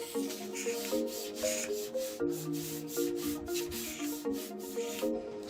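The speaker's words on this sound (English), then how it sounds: "合わさった時に1枚分の厚みになるように削ってます。" A young carpenter shaves a thin wood strip with a hand plane for a tree-ring piece, making repeated rhythmic rasping strokes, close and moderately loud, with a faint tonal ringing underneath.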